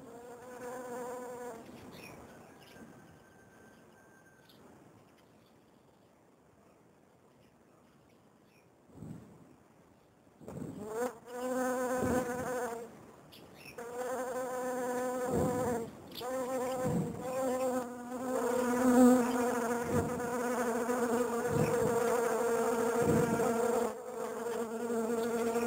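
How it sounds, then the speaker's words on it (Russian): Bees buzz around blooming crocuses in a garden flower bed, with near, droning buzzes passing in and out, quiet at first and then growing louder and more continuous as several insects hover close. "Пчелки работают."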